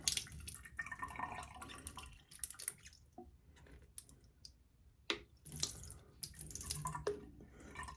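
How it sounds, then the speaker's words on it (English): A Rolex watch is rinsed under a running tap, with water splashing and trickling in uneven bursts and brief pauses, plus a few small clicks and drips close by. "And we'll just get all that tap water off."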